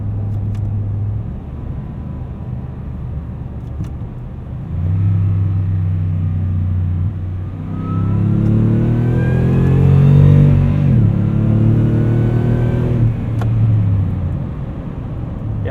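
A supercharged 5.7-litre V8 in a 2015 Toyota Tundra TRD Pro accelerates from inside the cab, a steady deep rumble swelling into rising revs through several gear pulls, loud and continuous with no talking.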